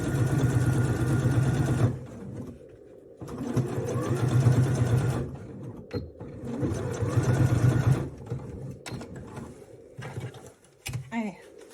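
A sewing machine topstitching close along the edge of a fabric pouch, running in several steady, whirring bursts of a few seconds each with short stops between, then a few clicks and brief handling noises.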